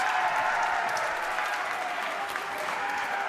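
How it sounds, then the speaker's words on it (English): Crowd roaring and cheering in a gym at a boys high school basketball game between Nokomis and Foxcroft, a dense, steady wash of loud crowd noise with no clear pauses. "Big roar of the crowd right there."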